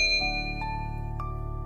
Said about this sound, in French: cliquer sur la cloche notification